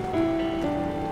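Rain falls in a cartoon, a steady wash of patter and drops under a faint sustained tone, evenly loud throughout.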